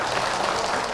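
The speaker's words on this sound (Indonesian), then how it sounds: "Tepuk tangan buat bunda yang berkata" Audience applause during an Islamic religious talk with Ustadz Hilman Fauzi, a brief unbroken burst of many hands clapping at a steady level.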